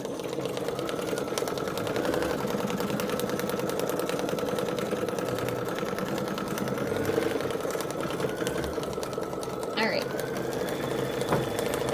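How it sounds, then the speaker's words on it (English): An embroidery machine stitching lettering onto a mylar card runs a steady, rapid mechanical chatter with a constant hum, close and continuous, while a person talks over it. "So while that one's running the embroidery for the words"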